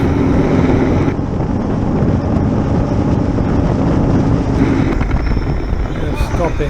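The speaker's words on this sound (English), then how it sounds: "It's a little windy today too" Wind blasting against a rider on an Indian Chieftain motorcycle crossing a bridge on a group ride, a loud, continuous roaring buffet with engine rumble mixed in, close to the microphone throughout.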